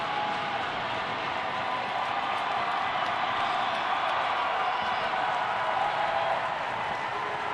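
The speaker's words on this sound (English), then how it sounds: "This crowd is going nuts" A hockey crowd at a high school cup final roars steadily after a goal, a dense, sustained wall of cheering and shouting that fills the whole stretch without letup.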